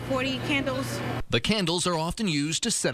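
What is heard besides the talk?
No everyday noises stand out.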